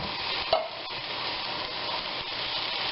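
Onions and diced tomatoes cook in a hot pan with a steady, close sizzle, broken by a brief clatter of stirring early on.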